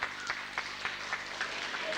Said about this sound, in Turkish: Alkışlarınızı işitsinler.